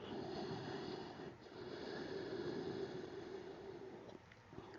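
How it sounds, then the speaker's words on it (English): Loud, steady breathing through the nose in Ujjayi style during a yoga session, a continuous airy rasp with a brief dip in the middle, close and alone without talk. "you may activate the Ujjayi breath, which is in and out through the nose, and you're also breathing a lot louder than you normally would"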